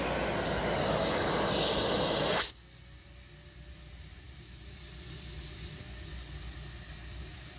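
An Oreck Dutchtech DTX1300 vacuum with an air leak draws suction through a telescopic wand, giving a loud, steady rushing hiss that abruptly drops to a lower whooshing drone with a faint whistle, then slightly brightens again.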